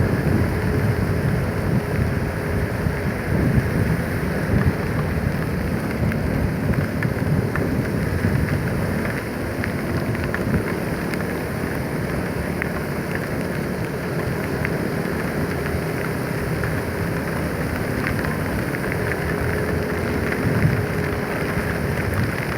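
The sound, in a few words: heavy rain and thunder during a drive to Makati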